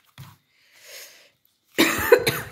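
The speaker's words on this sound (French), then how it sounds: "Excusez-moi si je tousse." A short throat sound, then a pause, followed by a single harsh, close cough.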